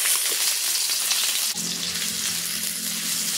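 Garlic and onion sautéing in a little cooking oil in a pan: a continuous close sizzle, briefly disturbed midway as more goes in, then hissing on steadily.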